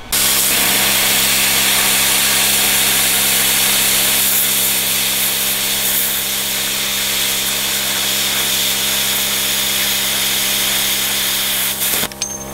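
Compressor-free plasma cutter slicing through 8 mm steel plate, a loud continuous hissing roar that holds steady and then cuts off abruptly near the end.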